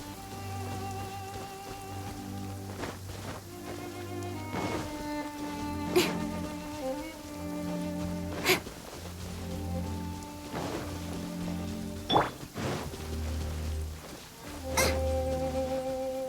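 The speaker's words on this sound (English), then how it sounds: "Quite a downpour." Heavy rain pours in the Genshin Impact video game as a constant hiss of drops, layered with soft sustained music and a few sharp splashy accents.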